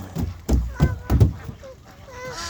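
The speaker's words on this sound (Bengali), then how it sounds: "অনেক হাঁস।" Ducks at a breeding setup give a few loud, close honking quacks in quick succession, followed by softer calls fading out.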